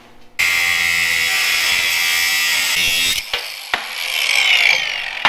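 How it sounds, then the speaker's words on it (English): An angle grinder cuts steel stock for building metal fenders, a loud, steady high-pitched whine that runs unbroken for about three seconds, then breaks into shorter bursts and scraping contact sounds as the blade bites and lifts off the metal. "Maybe a grinder machine."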